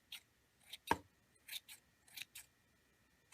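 Scissors snip through tassel yarn in a series of about six or seven short, crisp cuts spaced irregularly, close and quiet against a near-silent room.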